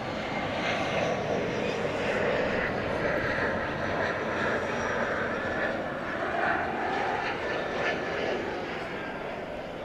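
An American Airlines jet landing on runway 18 right at DFW airport in the evening, a broad, steady engine roar at moderate distance that holds for about ten seconds.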